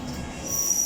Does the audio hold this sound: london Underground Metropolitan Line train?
yes